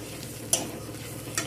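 Sesame seeds fry with spices in a pan, a close, soft sizzle broken by two sharp spoon scrapes against the metal as the mixture is stirred.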